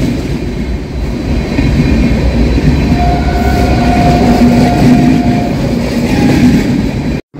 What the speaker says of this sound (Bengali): বাগড়াকোট দিয়ে আরেকটা ট্রেন ক্রসিং হচ্ছে